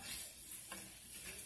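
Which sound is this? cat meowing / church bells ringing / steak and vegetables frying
steak and vegetables frying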